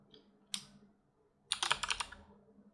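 Keys on a computer keyboard clack close by, with a couple of isolated taps followed by a quick burst of rapid typing.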